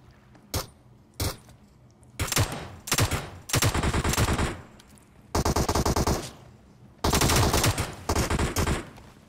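Gunfire in the PUBG Mobile battle royale game: sharp single shots followed by several loud automatic bursts separated by brief pauses, with no voices over the firing.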